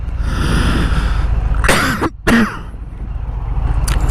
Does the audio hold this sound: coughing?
yes